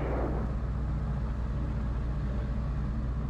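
Light aircraft engine idling at about 1,800 RPM during a pre-flight run-up, a steady low droning hum with a brief brighter burst at the start, heard alone from inside the aircraft.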